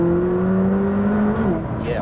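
A McLaren 600LT in track mode holds a steady, loud engine note around 3,000 rpm, a smooth sustained drone that dips slightly near the end as the revs change.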